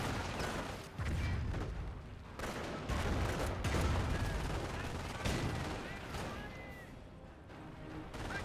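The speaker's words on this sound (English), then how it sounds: "Got multiple MG42s firing away, suppressing them." MG42 machine guns fire in the World War II strategy game Company of Heroes, sustained bursts and thuds of gunfire with explosions mixed in, fairly quiet and dense throughout.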